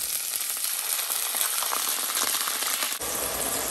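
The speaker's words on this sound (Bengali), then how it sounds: "পেঁয়াজ ভাজা চলছে" Chopped onions sizzle steadily in hot oil in a pan, a dense, continuous close-up crackle with a brief dip near the end.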